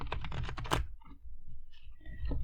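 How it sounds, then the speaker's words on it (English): A stiff tarot card deck is shuffled in a cramped space, producing a quick close burst of rapid riffling clicks followed by quieter shuffling and light handling, with no speech. "Okay, third shuffle."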